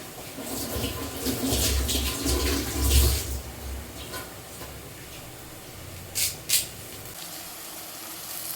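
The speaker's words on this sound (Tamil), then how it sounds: "நம்ம ஒரு 2 கொத்து கருவேப்பிலை எடுத்து கழுவிட்டு சேர்த்துக்கிடலாம்." Curry leaves rinsed under running water, a steady splashing stream close by for several seconds, then quieter trickling and two brief knocks near the end.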